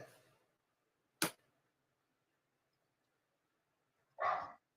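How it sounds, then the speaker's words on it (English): A dog barks twice at a distance, two short separated barks in an otherwise quiet room, the first sharp and brief, the second a fuller burst near the end. "My dog's barking."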